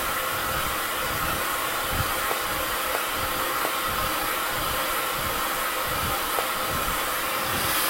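A blow dryer dries a mohawk section of hair with a loud, steady, continuous whooshing roar that stays close and unbroken throughout, with no talking.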